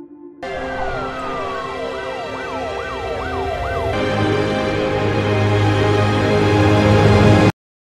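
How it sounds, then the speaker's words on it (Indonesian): A police siren wails with repeated rising and falling sweeps, then holds a steady tone over a low engine rumble, loud and continuous throughout. "ketika sirine polisi terdengar di kejauhan"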